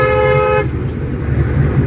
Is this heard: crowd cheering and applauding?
no